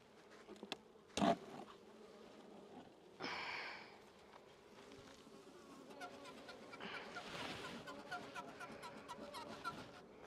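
Honeybees buzzing around an open backyard hive during an inspection, a steady close hum of many insects with occasional louder passes and brief handling knocks.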